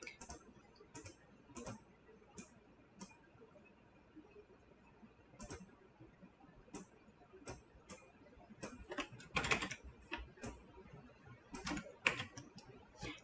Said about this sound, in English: when I want a corner, I'm just going to click, click